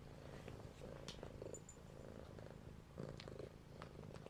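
A cat purring steadily and close by, a low continuous rumble with a faint pulsing rhythm that runs unbroken from start to end, with no voices over it.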